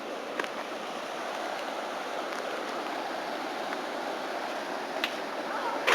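A creek flowing below a bluff near a high school parking lot and football field, a steady broadband rush of water running continuously and fairly close throughout, with a couple of faint clicks.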